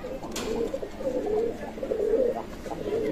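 Soft, low pigeon cooing repeats in a steady rhythm, several throaty coos close by against a faint background hum.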